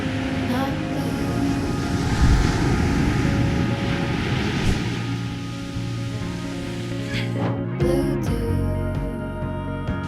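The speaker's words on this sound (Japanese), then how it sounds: "夕方になり波もさらに高くなっています。" Broad, steady roar of surf washing onto the shore at Katsurahama beach in Kochi, Japan, in the evening as waves grow higher; continuous and fairly loud, with a brief louder swell and rumble near the end.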